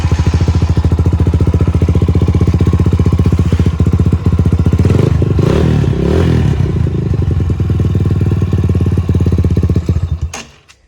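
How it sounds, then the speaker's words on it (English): A GPX Legend 200 motorcycle engine runs loud and steady for about ten seconds with a rough, rattling idle, then cuts off abruptly near the end. "Here, I'll fire it up here. This particular one is loud."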